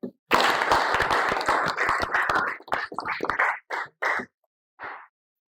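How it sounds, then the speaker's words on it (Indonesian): Applause from a youth congress audience after Supratman's song, a dense burst of many hands clapping that thins into a few scattered claps before fading out, with a brief voice near the start. "Sekali lagi berikan tepuk tangan kepada beliau"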